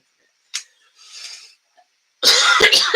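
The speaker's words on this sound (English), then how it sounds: "My cough is coming in with a vengeance" A person coughs in a harsh burst at the end after a short breath and a faint throat sound, loud and close with no speech over it.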